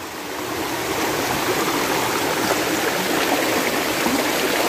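Kanyangan Waterfall in Ramon Magsaysay, Zamboanga, sends a steady, dense rush of falling water, loud and continuous throughout with no voices.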